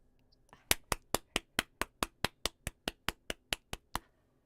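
A single pair of hands claps about fifteen times in an even, brisk rhythm, each clap sharp and close in a quiet room. A faint voice comes just before the claps begin.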